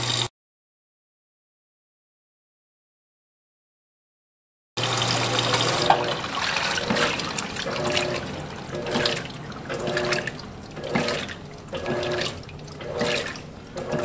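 An Electrolux Silent Control 12 kg top-load washing machine fills with water: after a few seconds of silence, a steady rushing stream pours in, loud and continuous with slight surges.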